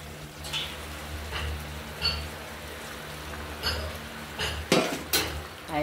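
Poppy seed paste is stirred into a bottle gourd curry in a pan, with soft scraping and clinking of a spoon against the pan and a few sharper knocks near the end, over a low background hum and no talk.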